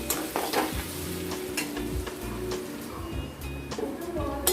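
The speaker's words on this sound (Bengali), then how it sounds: "দিয়ে এটাকে আমরা ভালো মতো করে নাড়াচাড়া করব" Ground cumin, coriander and Kashmiri chilli powder sizzle in oil in a pan for a potato, pointed gourd and fish curry. A spatula scrapes and clacks repeatedly over the steady frying hiss, up close.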